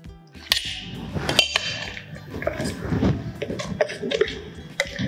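Raw tamarind paste ground with ginger, garlic, chillies and salt is scraped into a bowl, with scattered clinks and knocks of utensils against metal, close by and irregular.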